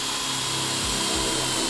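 A drill with a Projahn wood bit bores a hole through wood, giving a steady broadband whir with the motor's pitch dipping briefly twice as the bit bites, close and loud with no talk.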